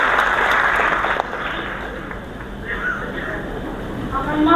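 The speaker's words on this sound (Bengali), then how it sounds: "একটা জোরে হাততালি দিয়ে দিন" An audience claps loudly in a hall, a dense burst of applause that eases off and then swells again, with voices mixed in.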